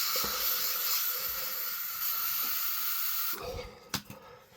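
An aerosol body spray can in the Africa scent hisses in a long steady spray that stops abruptly, followed by a few faint knocks and handling sounds, close and fairly quiet.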